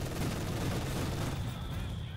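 Mortar and small-arms fire in a Company of Heroes 2 one-versus-one match, dense rattling gunfire and booms blending into a continuous loud battle din.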